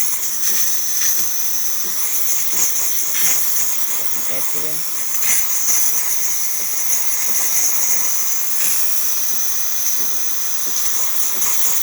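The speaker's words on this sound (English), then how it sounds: "since we're doing steam, it's going to start pulsating. The water pump starts pulsing into the thermoblock" A DeLonghi Magnifica espresso machine steams with a steady hiss as its water pump pulses into the thermoblock, loud and continuous throughout, with a voice speaking briefly over it.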